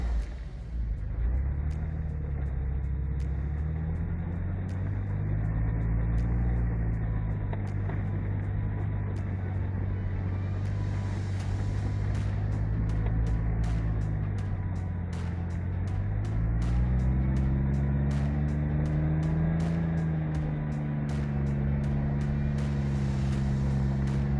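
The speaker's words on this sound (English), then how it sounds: "I also decided to put it into reverse to try and keep my Jeep in the same position while allowing the winch to pull him out." A Jeep engine runs in reverse during a vehicle recovery while its winch pulls another stuck vehicle free. The engine gives a continuous low rumbling drone that rises and falls in pitch, with faint ticking clicks above it and no talk.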